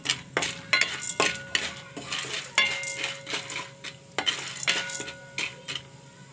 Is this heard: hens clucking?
no